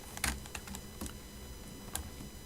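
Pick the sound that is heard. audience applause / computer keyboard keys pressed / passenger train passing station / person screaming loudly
computer keyboard keys pressed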